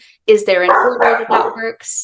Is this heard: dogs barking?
yes